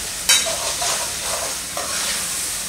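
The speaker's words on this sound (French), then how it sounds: "Allons bien mélanger ceci." A sauce for fonio gras being mixed in a pot: a continuous hiss and sizzle with a couple of scraping utensil strokes, close and moderately loud, and no voices.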